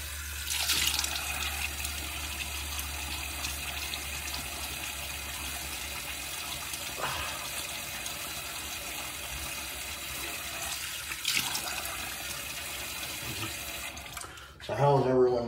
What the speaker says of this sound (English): Let me get my face wet real quickly.